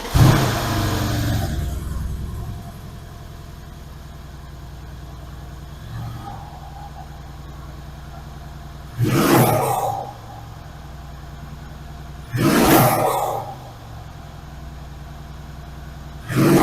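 Mercedes CLS63 with the M157 twin-turbo V8 and stock intake, heard nearby as the engine settles to a steady idle, then gives two short sharp revs and a third starting at the end.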